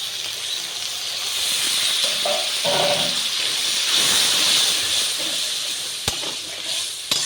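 Water poured into spices frying with turmeric and salt in a pan for a Bengali mustard-poppy fish curry, bursting into a loud, broad steamy hiss that swells and fades over several seconds, with a couple of sharp clicks near the end.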